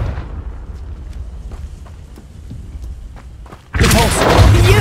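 A Confringo spell explodes in Hogwarts Legacy gameplay: after quiet, scattered clicks and thuds, a sudden loud, broadband blast erupts and roars on without fading to the end.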